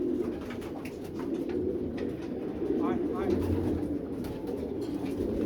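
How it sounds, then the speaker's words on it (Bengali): Racing and high-flying pigeons, including a female, coo and flutter around a loft, with a busy bed of bird sounds and a person talking over them. "এই মাদি কবুতর"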